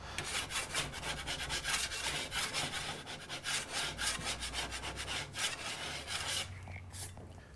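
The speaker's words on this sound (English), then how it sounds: "All I'm going to do now is go over it with my broad knife and remove any high spots." A broad knife scrapes across dried plaster on a plasterboard wall repair in quick repeated strokes, a close, gritty rasping rhythm that slows near the end.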